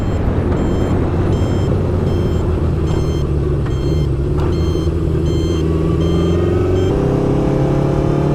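A Honda CB750 motorcycle's electronic buzzer beeps in regular pulses over a loud, steady engine drone, with traffic rumbling close by.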